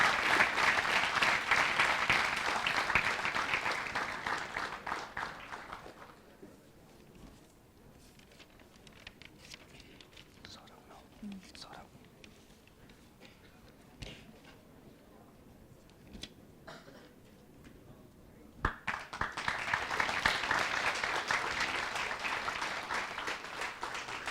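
An audience at a college valedictory ceremony bursts into loud applause, falls into a long quiet lull with scattered faint claps and rustling, then breaks into a second full round of clapping.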